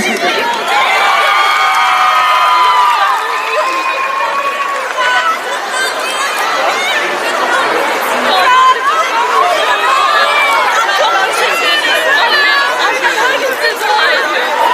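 Crowd at the Osman Kuruluş film premiere, a dense wash of chatter, shouts and cheering held at a steady, loud level throughout, with excited voices overlapping close by.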